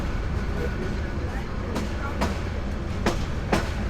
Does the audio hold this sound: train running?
yes